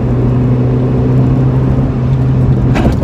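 A carbureted Toyota Starlet 2E engine heard from inside the moving car, a loud, steady droning hum with a low engine tone held constant for a few seconds and a brief rattle near the end, no speech.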